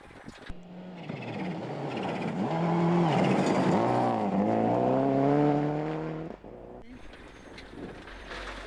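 A rally car races at high speed along a gravel stage, its engine roaring loud and close with rising and falling gear changes, then cutting off abruptly, with a second engine burst at the end.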